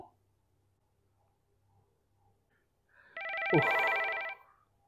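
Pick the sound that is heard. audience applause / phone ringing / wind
phone ringing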